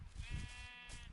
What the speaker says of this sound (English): we'll kill this sheep right now